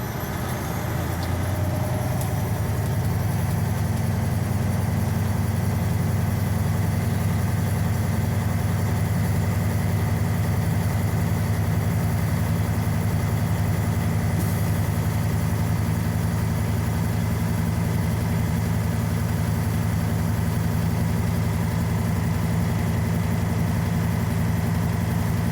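A truck's diesel engine idles steadily at close range while building up air pressure in the cab, a constant low rumbling drone with no talk.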